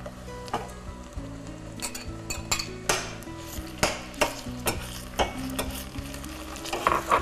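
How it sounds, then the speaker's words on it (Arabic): Meat added to onions cooking in a pot for Turkish dolma, with a soft sizzle under repeated clinks and scrapes of a utensil against the metal pot. "طيب حطينا البصل، هنحط اللحمه."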